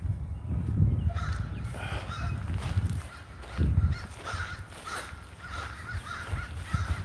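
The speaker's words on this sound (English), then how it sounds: "Hear the crows, they just drive me crazy." Crows cawing around a big roosting tree, repeated harsh caws at a moderate distance, steady and layered over a rough outdoor background with no talking.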